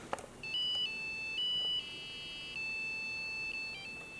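Soft, sustained electronic tones from a HandSound motion-controlled music device, a few gentle steady pitches that shift in short steps over a few seconds, quiet and alone without any talk.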